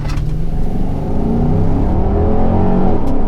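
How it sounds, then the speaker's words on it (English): A 2024 Nissan Patrol Warrior with a bimodal exhaust launches hard from a standstill, its engine note climbing in a steady, loud, continuous roar close by for the whole stretch. "Oh, that bimodal exhaust."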